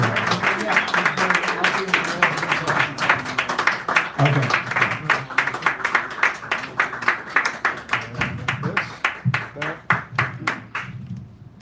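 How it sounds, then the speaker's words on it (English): Audience at a poetry reading in a San Francisco cafe clapping, a dense burst of applause that gradually thins into fewer, separate claps before fading out. "Give them a round of applause as you come here"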